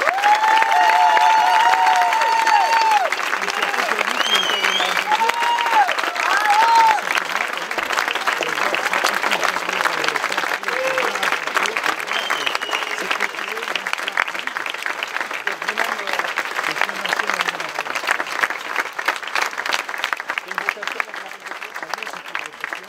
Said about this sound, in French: vous pouvez applaudir les nouveaux marins-pompiers